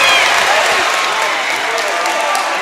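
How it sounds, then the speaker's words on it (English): A high school boys' varsity basketball crowd cheers and applauds loudly and continuously during free throws in a gym, a dense roar of many voices and clapping. "And the crowd is into it."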